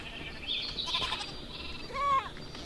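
Goats in Minecraft TerraFirmaCraft give two short, high bleats about a second and a half apart, moderately loud over a faint background hum.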